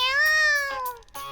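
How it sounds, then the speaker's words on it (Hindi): A cat cries out with a loud, drawn-out wailing meow, then a shorter second meow follows, close and clear in a children's animated story. "फिर दोबारा बिल्ली बेचारी चिल्लाती रहती है।"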